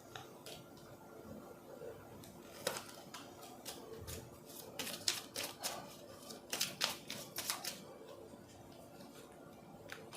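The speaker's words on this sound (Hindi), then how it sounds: "2-3 कार्ड्स और लूँगी मैं" Tarot cards drawn and shuffled from a deck during a reading, making soft, scattered flicks and light taps that grow busier toward the end, faint over a quiet room hiss.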